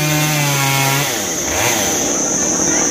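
A chainsaw cuts small branches off a mango tree from up in the canopy, running at a steady loud drone with a low engine note that drops after about a second as the blade bites into wood.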